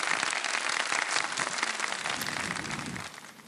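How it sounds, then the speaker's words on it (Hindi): A studio audience on a quiz competition show applauds steadily for a few seconds, a moderately distant wash of clapping that gradually fades toward the end. "तालियां बजा दें"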